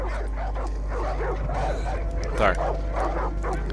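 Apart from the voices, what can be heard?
dogs fighting and barking in video game Far Cry 5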